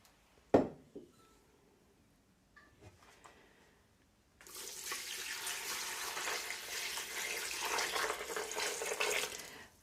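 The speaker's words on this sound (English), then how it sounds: "Pour in enough water to cover them." Water poured from a tap into a jam pot over oak galls, a steady close splashing stream lasting several seconds after a sharp knock and light handling clatter.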